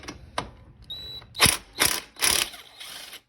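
A ratchet wrench on the axle pinch bolt of a 1983 Honda Shadow 750 motorcycle clicks in a few short, close bursts, with brief metallic ticks in between.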